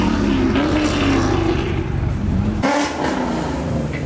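A Corvette C3 pace car at a car meet, its engine droning loud and close with rising revs and a throttle change midway, heard alone without talk.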